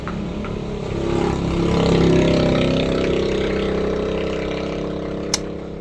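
Vehicles pass on a road on a rainy day, a steady engine rumble and tire hiss that swells as one goes by and then eases, with a brief sharp click near the end.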